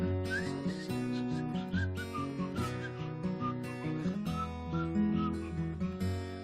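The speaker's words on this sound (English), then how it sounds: "I learned how to whistle through my teeth." A person whistles a melody through their teeth, a bright wavering tune of sustained and sliding notes over a steady accompaniment, heard clearly and near throughout.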